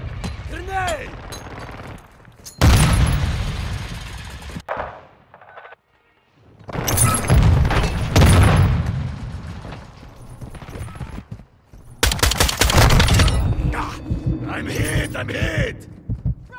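Explosions and rapid gunfire ring out in a Call of Duty Modern Warfare firefight, loud bursts broken by short quiet gaps, with shouted voices over the combat.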